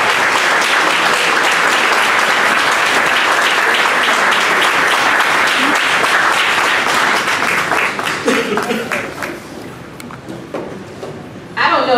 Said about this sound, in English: Definitely not least, give a big, big round of applause for Mrs. Marjorie Evans.